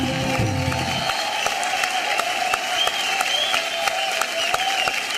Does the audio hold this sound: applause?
yes